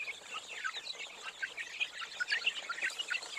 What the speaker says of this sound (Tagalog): Ngayon naman po ay nagpapakain na tayo sa ating mga 3 days old chicks.